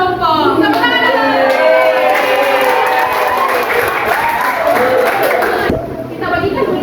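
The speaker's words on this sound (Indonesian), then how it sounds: "Tepuk tangan dulu." In a classroom group activity, students clap together for a newly chosen group leader, with the clapping mixed into loud overlapping voices and chatter that fade slightly toward the end.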